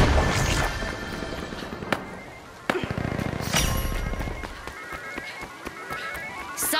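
A grenade explodes in the video game The Finals, giving loud booming bursts and sharp cracks amid busy combat effects and footsteps.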